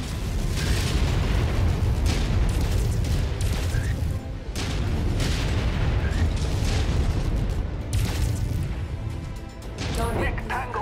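Missile explosions in the mech combat game MechWarrior 5, with a string of heavy booms and bursts over a constant rumbling battle bed, loud and close, as clipped radio voices speak.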